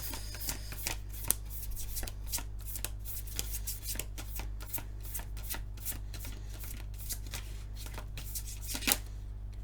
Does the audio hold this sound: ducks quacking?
no